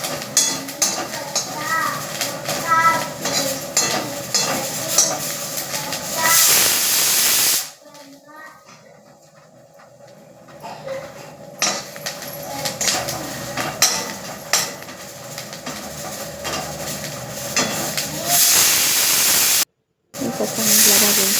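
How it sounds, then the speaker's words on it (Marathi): Green chillies and coriander roasting in a pan for thecha, a steady close sizzle and hiss with occasional clinks of a spatula against the pan; the sizzling drops away for a few seconds midway. "कोथिंबीर पण त्याच्यातच भाजून घ्यायची"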